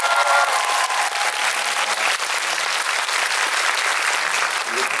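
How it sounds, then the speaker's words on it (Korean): Cinema audience at a film talk event for the movie Crime City 3 applauding, a full, continuous roar of clapping from many people with faint crowd murmur beneath. "재밌게 보신 만큼 박수"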